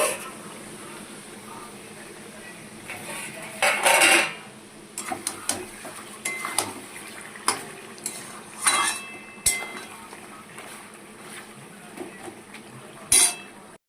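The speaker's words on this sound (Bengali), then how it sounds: "ঢাকনাটা উঠিয়ে একটুখানি নাড়িয়ে দেবো আবার।" A lid comes off a pan of chicken rezala and a spoon stirs, metal clinks and scrapes arriving in scattered bursts against a quiet kitchen background.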